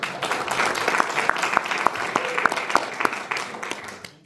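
Audience applause at a Marion County commissioner candidate night, a steady patter of many hands clapping for an introduced candidate, with a few sharper individual claps standing out, sustained and fairly close for about four seconds.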